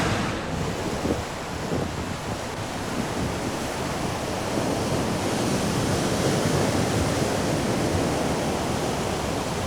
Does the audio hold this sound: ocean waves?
yes